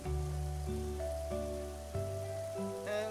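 Steady rain falling in an animated Vietnamese fairy tale, a constant soft hiss running beneath sustained musical tones throughout.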